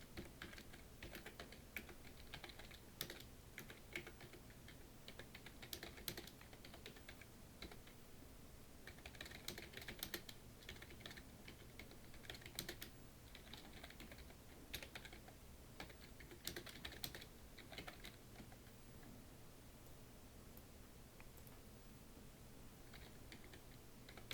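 Continuous typing on a computer keyboard, a quiet, steady patter of key clicks with occasional louder strokes, heard close but at low level throughout, with no speech.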